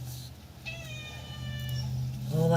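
A pet cat meows twice, a drawn-out indoor call followed by a shorter rising one, close by over a low background hum.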